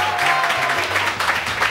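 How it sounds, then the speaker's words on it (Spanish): A television studio audience applauding during a variety show, dense, loud clapping heard alongside music or a low steady tone underneath. "ustedes me aplauden"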